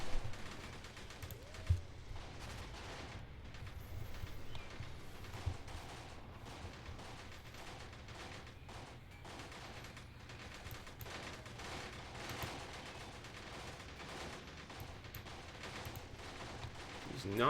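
Gunfire and battle sounds from the Graviteam Tactics war game, set in the Battle of Cuito Cuanavale, with scattered bursts and distant booms over a low rumbling background at moderate volume, no speech.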